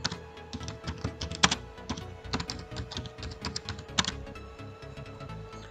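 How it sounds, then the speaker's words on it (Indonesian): Steady, uneven tapping of keys on a computer keyboard while text is entered into a Word document, close and fairly quiet, with brief louder clacks from time to time. "kita ketikkan ya"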